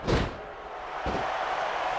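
Heavy body impacts from a clothesline in the wrestling video game Smackdown vs Raw, a loud slamming thud at the start and two more thuds, over a dense roaring arena crowd.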